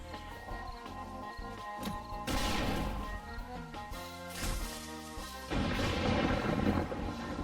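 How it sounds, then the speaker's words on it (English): Grenades exploding in the survival game 7 Days To Die, a series of booming blasts and crashes layered over busy game music and effects, with louder bursts recurring every couple of seconds. "Sit here and throw grenades at them."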